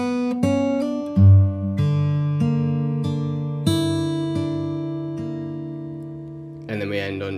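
An acoustic guitar plays a slow sequence of chords, each strummed or arpeggiated and left to ring before the next, nearby and with no talk, ending in a brief rustle of handling noise.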